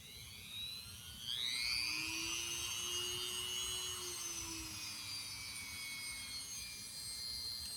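A Dremel rotary tool sharpens a chainsaw chain with a high, whining grind that rises in pitch as it spins up and then holds steady near the listener, its tone wavering slightly as the stone bears on the cutter.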